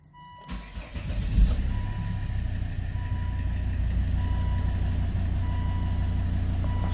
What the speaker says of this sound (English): Once again I'm going to start the engine.